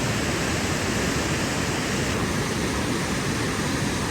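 The Parvati Bagh waterfall on the Shrikhand Mahadev trek roars in extreme flow, a loud, close, unbroken rush of water that does not let up and carries no voices.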